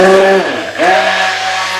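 Stick blender whirring in lemongrass neem soap batter, a loud steady motor tone that dips briefly and revs back up as mixing continues.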